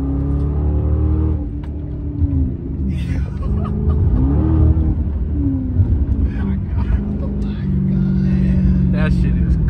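A Chrysler 300C's aftermarket exhaust rumbles and revs steadily with a deep throb, while several people talk and laugh loudly over it throughout.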